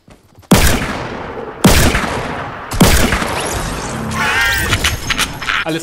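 Three loud video game gunshots ring out about a second apart, each with a long echoing tail, followed by clattering debris and a sharp metallic whine.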